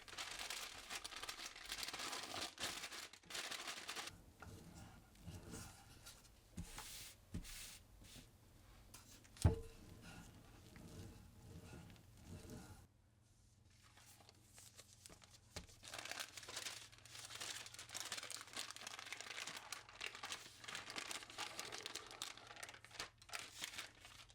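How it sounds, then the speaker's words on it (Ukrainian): Parchment paper is folded into a 22 by 22 cm square for shaping a Christmas stollen with marzipan, giving soft continuous crinkling and rustling with one sharper crackle midway and a brief quieter pause. "Пергаментний папір зложити у квадрат 22х22 см"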